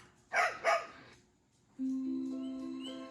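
A dog barks twice in quick succession, close and clear, then after a pause a sustained tonal hum or whine carries on steadily to the end.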